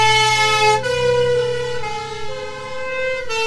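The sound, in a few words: vintage Citroën HY fire engine passing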